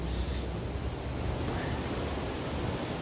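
Steady broadband rush of water in a swamp, dense and continuous with low rumbling and some wind across the microphone, no voices.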